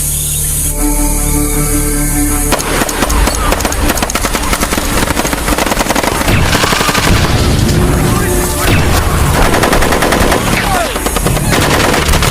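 Sustained automatic gunfire rattles through a jungle ambush scene in an action film, with rapid bursts of shots and heavy booms overlapping a loud, dense soundtrack that runs the whole way.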